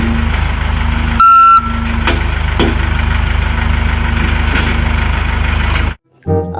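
Reversing beeps from a toy road roller, a short burst of bright electronic tones over a loud steady motor hum that cuts off near the end.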